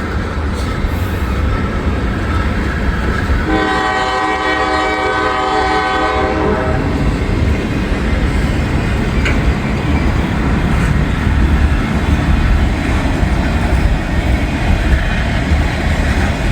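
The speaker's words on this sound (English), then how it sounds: "Norfolk Southern safety train." A Norfolk Southern safety train rolls past in Hamilton with a loud, steady rumble, and a blaring horn blast of about three seconds sounds partway through over the noise of the passing cars.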